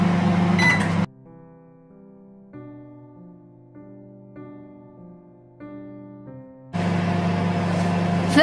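A microwave-style oven baking milk bread on a 30-minute timer hums with a steady tonal drone and shifting pitches, set between louder stretches of broadband noise at the start and end.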